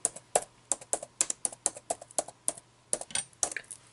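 Steady run of quick keystrokes on a computer keyboard, clicking in short uneven bursts with brief pauses, close and clear against a quiet room with a faint low hum.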